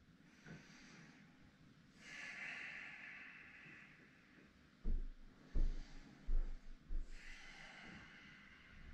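Deep, slow breathing during a vinyasa yoga flow, with long airy inhales and exhales, then a run of short, sharp nasal exhales near the end, close and moderately loud.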